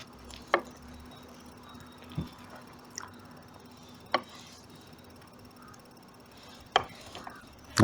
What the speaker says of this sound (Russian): Приступаем к нарезке огурца.